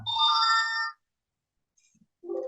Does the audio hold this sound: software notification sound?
yes